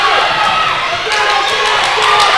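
A loud crowd roars and cheers without letup at a girls' basketball game between V and Ursuline, dense and echoing, with occasional sharp slaps and bounces poking through.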